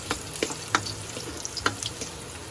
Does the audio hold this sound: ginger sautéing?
yes